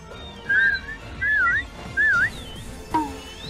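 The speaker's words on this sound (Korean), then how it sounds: "휘파람을 한 번 더 불어볼까요 우리 다 같이?" Three short rising-and-falling whistled phrases, fairly loud and close, with a fainter fourth note at the end over a low background murmur.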